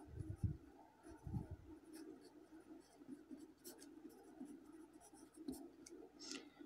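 Chalk or marker scratching on a classroom board as a list is written, soft intermittent strokes and taps under a quiet room hum, faint and close.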